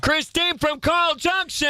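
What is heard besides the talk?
No distinct noise like a dog, phone or traffic.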